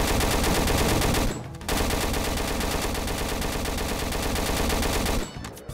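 Rapid automatic gunfire in a Roblox game, loud dense bursts of shots that pause briefly once and then stop near the end.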